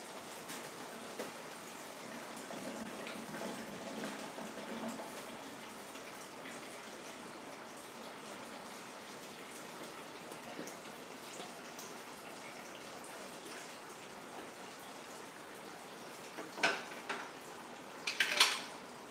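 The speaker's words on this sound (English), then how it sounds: "I gotta do a little bit of a wash up here." Dishes and cutlery clatter amid steady running water, with a few sharp clinks of metal and glass standing out near the end.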